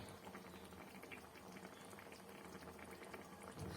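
Curry with egg omelette pieces and tamarind leaves bubbles and boils in a pan, a steady close-up burble with no voices, swelling slightly louder at the very end.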